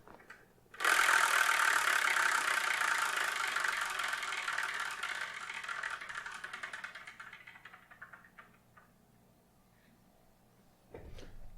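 A prize wheel spins with a dense, fast whirring rattle of clicks that starts suddenly, then slowly fades and slows over about ten seconds until it stops, followed by a brief thump.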